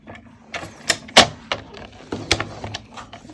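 Paper is scored at half-inch intervals along a scoreboard for a Halloween folio, giving a series of short, uneven taps and scraping strokes close by.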